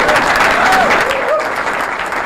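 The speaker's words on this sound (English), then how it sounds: "Would you give that a round of applause?" A crowd at a live election-night event gives a loud, close round of applause, dense clapping filling the whole short stretch with a faint tonal whistle or voice rising above it.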